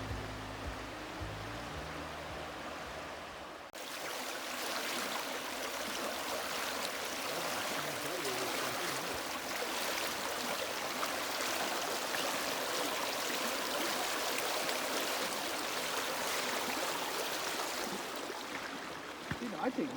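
Jordan Valley river stream flowing along a pathway, a steady broadband rush of water that starts abruptly a few seconds in and then holds constant and fairly loud, with no voices over it.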